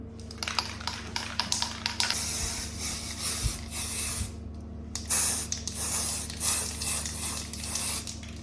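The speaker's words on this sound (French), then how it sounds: "Et puis, j'aurai plus qu'à mettre du vernis." Varnish sprayed onto small handmade crafts in a series of hissing aerosol bursts, some short and rapid and others longer, close and fairly loud with no talking.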